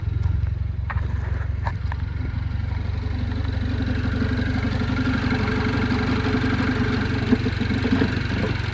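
A Mini Cooper S with a rattly airbox idles steadily after a high-pressure fuel pump replacement, a low even engine drone close by with faint clicks and rattles early on, no talking.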